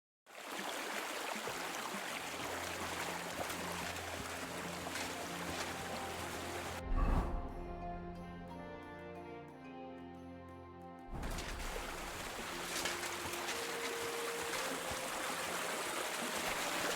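A swollen stream in Kingdom Come Deliverance II rushes and trickles as a steady watery wash, broken briefly by a louder splash and a quieter stretch with droning tones before the flow returns.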